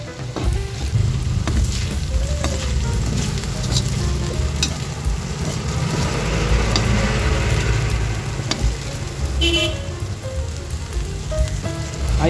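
Pork tenderloin with pepper sizzles steadily in a hot pan as it is stir-fried, with scraping and stirring sounds from the utensil throughout and occasional clinks.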